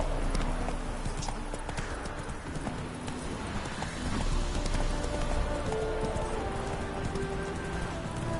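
Hooves of Roach the horse clatter in a steady galloping rhythm in The Witcher 3, loud and close and running throughout, with ambient game sound underneath.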